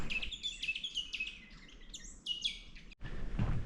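Parrots chirp in a rapid run of bright, repeated calls, fairly close, over a low background rumble along a coastal walking track, with a brief pause before a louder rustling burst near the end.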